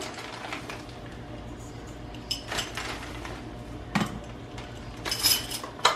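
Spoon clinking against a bowl while stirring a tablespoon of sugar and yeast in water for bread dough, a few light scattered clinks and scrapes in a quiet kitchen.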